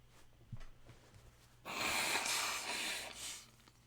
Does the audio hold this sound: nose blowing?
yes